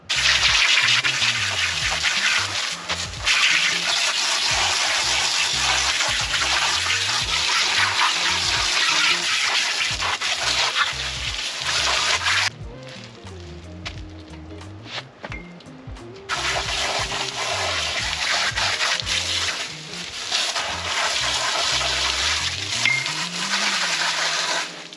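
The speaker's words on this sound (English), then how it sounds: "I'm gonna take this, just a regular old garden hose, and spray it down really, really good." A regular garden hose sprays water steadily onto a leather saddle. The hiss and splash is close and loud, with shifting pressure and a brief quieter stretch midway before the full spray returns.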